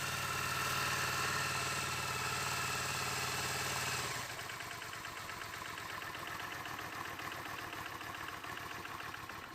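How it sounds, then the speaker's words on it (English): Yamaha Virago XV 535 motorcycle engine idling: a loud, rough idle with the choke on gives way after about four seconds to a quieter, uneven, shaky idle once the choke is switched off, steady to the end. "I'm gonna switch off the choker so you will see that the vibrations of the bike change a lot"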